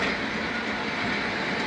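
The Khyber Mail train rolls into Pattoki railway station with a steady, loud, dense rumble of wheels and carriages, continuous throughout without voices.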